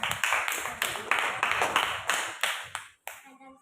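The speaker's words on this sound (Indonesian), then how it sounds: "Tepuk tangan." Classroom applause for a student presentation group, a steady round of close hand clapping lasting about three seconds before it stops and a voice begins.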